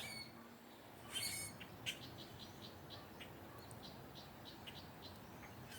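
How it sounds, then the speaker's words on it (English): Birds call outdoors after a cold front and heavy rain has passed, a repeated series of short chirps and whistles at moderate distance over a soft steady background hiss, with no talk. "And now we have all these big robins out here."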